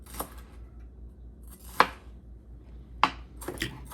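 A kitchen knife slicing a pepper on a cutting board, three or four sharp, close taps spaced about a second apart with quiet gaps between them.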